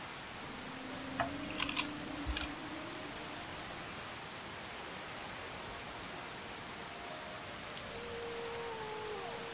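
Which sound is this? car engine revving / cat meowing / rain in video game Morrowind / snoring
rain in video game Morrowind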